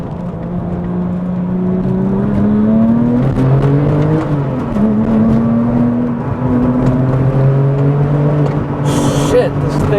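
A Porsche GT2 under hard acceleration gives a loud in-cabin engine roar that climbs in pitch, drops briefly at a gear change and then climbs again, with road rumble throughout and a voice speaking over it.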